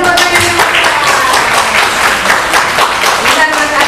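An audience at a teacher-training event in Grobogan claps together, a brisk, steady patter of many hands under and around voices that keep talking over it.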